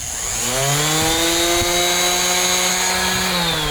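Power sander working over a wooden table being refinished, a loud steady motor whine with slowly shifting pitch running throughout, close and uninterrupted.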